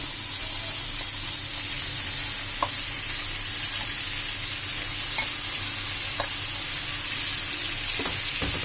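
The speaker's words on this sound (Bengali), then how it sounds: "এবার আমি সিদ্ধ করা কচু ভোটা দিয়ে এটাকে ভালো করে নাড়াচাড়া করব" Shrimp and boiled taro stems fry in a pan, a steady close sizzle with occasional clicks and scrapes of stirring throughout.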